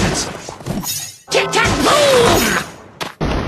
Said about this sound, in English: Goblins, don't look at explosions!